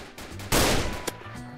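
A sniper rifle fires once in the Roblox game, a loud, sharp blast with a short decaying tail, followed a moment later by a smaller crack, over quiet game ambience.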